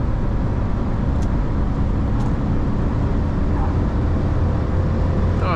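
A 1992 Mercedes 500E with a 326 hp engine accelerates hard from 100 to 200 km/h, a loud, steady engine and road roar that holds throughout.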